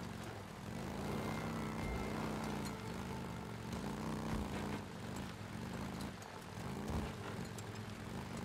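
Motorcycle engine droning steadily through open-world riding in the video game Days Gone, a continuous loud motor hum with slight rises and dips in pitch, no talk over it.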